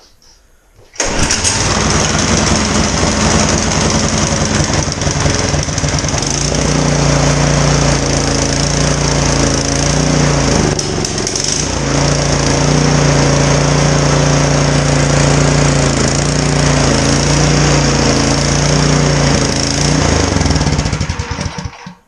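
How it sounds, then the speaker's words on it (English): A Troy-Bilt Storm 2620 snowblower engine fires up after a second of quiet and runs loud and close with the choke partly on, its rough buzzing drone holding steady with slight RPM wavering, one brief dip midway. "I still had the choke on a little bit, and it was only the RPMs were bouncing there a bit because the choke was slowly coming off."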